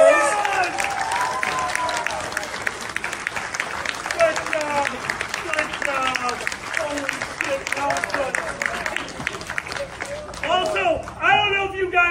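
An improv show audience applauds and cheers, clapping running under loud overlapping voices and excited chatter throughout.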